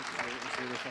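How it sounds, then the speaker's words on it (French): Audience applause at an award ceremony, a dense even clatter of clapping hands sustained throughout, fairly close and loud. "On les applaudit encore bien fort"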